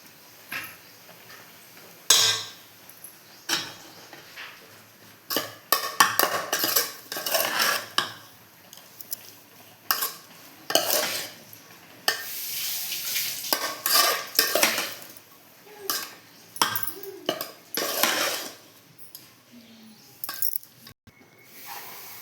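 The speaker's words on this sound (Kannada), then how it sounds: "ಸಣ್ಣದಾಗಿ ಕಟ್ ಮಾಡ್ಕೊಂಡಿರೋಂಥ ಕೊತ್ತಂಬರಿ ಸೊಪ್ಪನ್ನ ಇದ್ರ ಜೊತೆಗೆ ಹಾಕಿ ಮಿಕ್ಸ್ ಮಾಡ್ತೀನಿ ನೀಟಾಗಿ" Rice being mixed with finely chopped coriander in a pan for a vegetable rice dish, with repeated scraping and clinking of a spoon against metal in irregular strokes, close and moderately loud, no talking.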